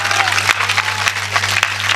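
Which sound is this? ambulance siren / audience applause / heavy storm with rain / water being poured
audience applause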